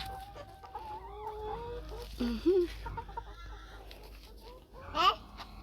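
Farm chickens cluck and chirp in short bursts close by, with a louder squawk near the end over low background noise and a faint voice.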